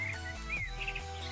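Chirping bird calls from creatures in Minecraft Crazycraft, a modded video game, with several short tweets rising over a steady low droning game background.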